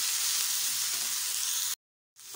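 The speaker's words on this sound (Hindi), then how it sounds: "बस वो सॉस को डालकर फ्राई कर लूँगी" Vegetables fry with sauce in a hot pan for veg chowmein, giving a steady bright sizzle that cuts out briefly and then resumes.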